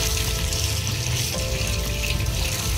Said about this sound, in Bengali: এবারে জল দিয়ে খুব পরিষ্কার করে ধুয়ে নেব